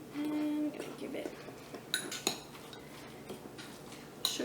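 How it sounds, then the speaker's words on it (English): A metal spoon scoops mayonnaise into a bowl for sushi donuts, making soft scraping clinks and a few sharper taps against the bowl, fairly quiet, with brief speech in between. "I'm gonna spoon, it's about 1 tablespoon of mayo."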